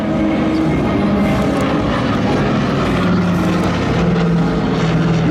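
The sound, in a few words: Douglas Dakota propeller aircraft flying at air show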